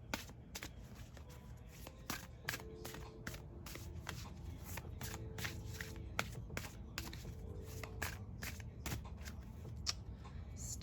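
A tarot deck shuffled continuously by hand, rapid close riffling and card slaps in a steady rhythm throughout, quiet and without talk.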